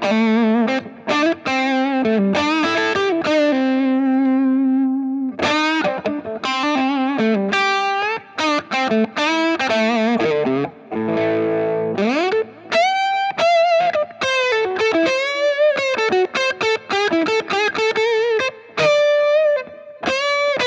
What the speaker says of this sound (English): the great sound of two humbuckers when the treble pickup begins to get some distortion